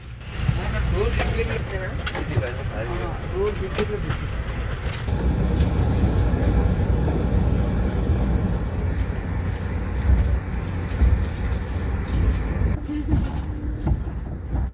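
Inside an Amtrak Pennsylvanian Amfleet 2 coach on the eastbound Pittsburgh to Philadelphia run, a steady low rumble of the moving train with rattles and clicks throughout, and a voice speaking over it in places.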